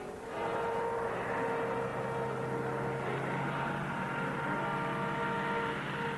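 Steady droning engine of a 1939-era propeller airplane, a continuous loud rumble with a constant tone throughout, no voices.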